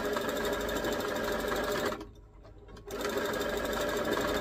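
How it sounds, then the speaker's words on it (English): Sewing machine stitching fishing line into the hem of organza fabric, a loud continuous motor hum and rapid needle clatter that stops briefly midway, then resumes at full speed. "It's probably going to take me to rethread the sewing machine a couple times."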